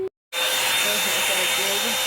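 A Revlon One Step Plus blow dryer switches on after a brief silence and runs steadily with a loud, close, continuous airy whine and roar.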